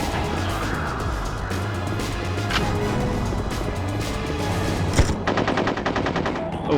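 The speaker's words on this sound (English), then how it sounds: "Let's get our assault rifle back out" Assault rifle fire in the video game 007: Tomorrow Never Dies amid a dense, noisy game soundscape with engine-like hum, ending in a rapid rattling burst of automatic shots near the close.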